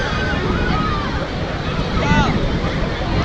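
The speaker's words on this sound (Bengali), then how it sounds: "ঢেউটা দেখো, এখন মানে জোয়ার এসেছে" Sea waves roll in at high tide on Udaipur beach near Digha, a continuous rushing surf close by with wind buffeting. People talk over the wash of the water.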